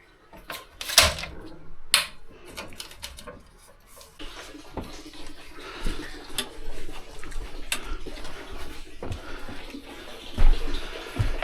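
Water refilling a bathroom's plumbing system, trickling and running water with scattered ticks and taps, rising and falling irregularly, close by.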